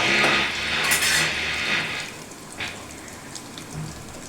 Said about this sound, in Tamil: இந்த பட்டை, சோம்பு, லவங்கம் இதெல்லாம் போட்டு நல்லா வதங்கிட்டோம்.